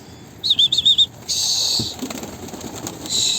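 A pigeon takes off with a brief burst of flapping wings outdoors, after a short high chirping call, then rustling and faint background sounds.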